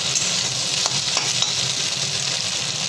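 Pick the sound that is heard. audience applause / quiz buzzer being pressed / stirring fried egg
stirring fried egg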